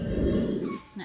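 A small pet dog whimpers and yips indoors in a short, close burst of whining cries that fades, then ends with a brief sharper yelp.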